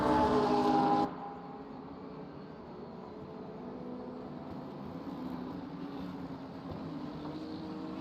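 GT3 race cars at Sebring rushing down the back straight, a loud engine burst at the start that cuts to a quieter, steady distant drone of motors for the rest.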